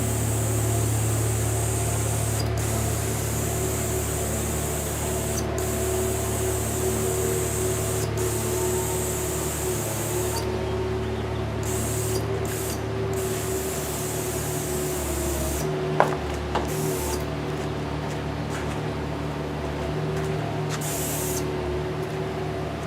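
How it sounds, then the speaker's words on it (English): Lacquer is sprayed onto a golf club coat rack in a long, steady hiss of aerosol spray, with a few short pauses and some faint handling bumps, close up and without talk. "we're just going to spray the last coat on here"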